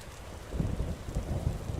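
Rain with rumbling thunder in the video game Vintage Story, a steady wash of rainfall with low rolling booms that swell around the middle and again near the end, no talk.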